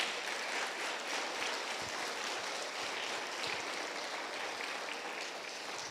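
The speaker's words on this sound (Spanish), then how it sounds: "Dale palmas a Jesucristo" A church congregation applauds continuously at a low, distant level, a dense wash of many clapping hands without clear individual claps.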